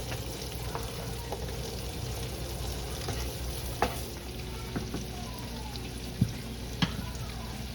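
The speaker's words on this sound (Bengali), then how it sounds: "বাঁধাকপিটা আমি এখন ভাজি করে নেব।" Cabbage frying in a pan, producing a constant close sizzle with a few sharp spatula clicks and scrapes, moderately loud and uninterrupted by speech.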